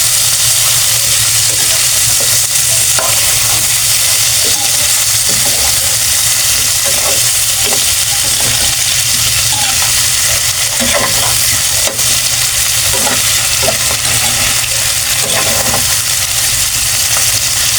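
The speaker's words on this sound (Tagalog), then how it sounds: "At ilagay na po natin itong ating pinalambot na chicken feet." Softened chicken feet fry loudly in a pan with sautéed garlic and onion, a dense continuous sizzle broken by repeated scraping stirs, close and steady throughout.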